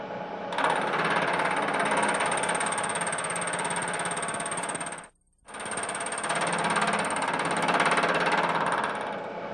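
A milling machine cuts steel in a steady, loud, grinding whir, taking a cut about twenty thousandths of an inch deep, with a brief pause midway before the same close, even machining noise resumes.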